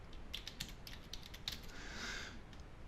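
Fingers type on a computer keyboard, entering a journal name in a burst of light, quick keystrokes followed by a brief soft swish.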